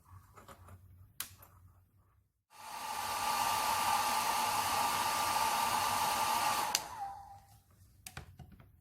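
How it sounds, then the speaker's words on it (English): A hair dryer blows steadily for about four seconds with a loud whooshing hum, drying a spot on chromatography paper, then cuts off, leaving quiet handling noises before and after. "I'm going to dry it with my hairdryer."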